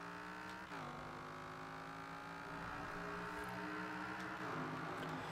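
An AMC Gremlin with a V10 engine swap of over 1,100 horsepower accelerates in Forza Horizon 4, with a loud continuous engine roar that climbs steadily in pitch, broken by a few quick gear-shift dips.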